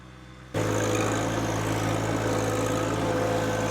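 A John Deere 1025R compact tractor engine idling at high altitude, a steady low rumbling hum that starts abruptly and holds constant, close and fairly loud.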